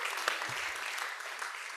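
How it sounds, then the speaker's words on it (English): An audience at a social prescribing show gives a short burst of steady applause, a dense patter of many hands that is moderately distant and fairly quiet. "You get a round of applause as well."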